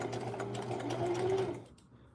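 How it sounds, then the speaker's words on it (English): A blind stitcher sewing machine runs steadily while hemming jeans, a close mechanical whir lasting about a second and a half before it stops, leaving near-silence. "it's a blind stitcher"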